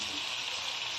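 Peas and carrots frying in a pan, a steady close sizzle with a soft crackle, continuous and even with no one talking.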